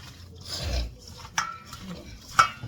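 Hands rub sugar, ginger, scallion, onion, garlic and Scotch bonnet pepper into raw chicken for curry, giving soft close rasping and squelching rubs with two sharper brief handling sounds, alone with no talk.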